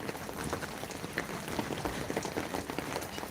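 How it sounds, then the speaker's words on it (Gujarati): Heavy rain pours steadily and close by, a dense, even wash of drops striking surfaces with scattered louder splashes throughout and no voices. "જાની કેવો વરસાદ આવ્યો નહીં હા જાની વરસાદ જબ્બર આવ્યો"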